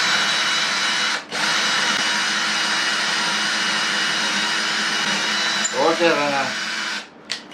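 An electric screwdriver drives a screw with a loud, steady motor whir that runs almost continuously and dips briefly at the start and end. A voice speaks briefly near the end.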